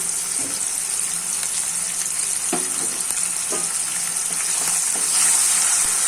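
Spiced boiled-egg and potato curry fries in a pan while being stirred, a steady close sizzle broken by occasional scraping strokes of the spoon, without speech.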